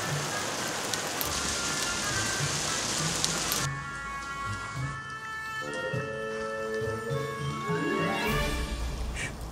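Light rain falls steadily over an outdoor barbecue setting with an offset smoker, a soft continuous patter with brighter drips and a shift in texture partway through; no voices.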